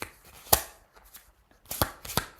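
A deck of tarot cards is shuffled in a few short, crisp riffling bursts, close and fairly quiet, with brief pauses between them.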